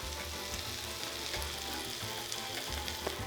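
Liver fries steadily in butter in a hot pan, a continuous crackling hiss with faint pops, close and fairly quiet, no voices.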